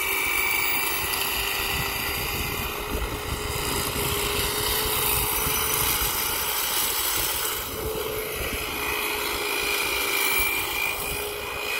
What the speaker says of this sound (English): So this is an electric saw.